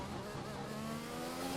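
A Formula 1 race car engine in the F1 2021 video game drones at a steady, sustained pitch in the distance, fairly faint and continuous, with no speech over it.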